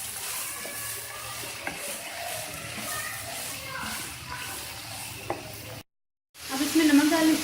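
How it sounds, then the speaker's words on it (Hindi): Chopped capsicum and mixed vegetables are stirred in a hot pan for macaroni, giving a continuous close sizzle with scraping stirs, a brief silent gap, then louder frying. "तो अच्छे तरीके से मिक्स कर लेंगे।"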